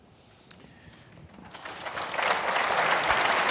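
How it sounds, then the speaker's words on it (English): A lecture audience at a book talk breaks into applause. It starts as scattered claps and swells into steady, full clapping from a sizeable crowd that fills the room. "You don't have to clap every time I give an answer"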